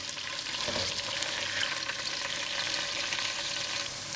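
Onions sizzle in a pot previously used for frying chicken, giving a steady, close, continuous crackling fry with small pops and no voices.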